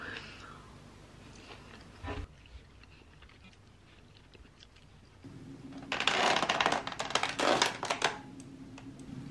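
Carambola star fruit being bitten and chewed up close, quiet at first, then a burst of crisp, juicy crunching and smacking in short irregular bursts.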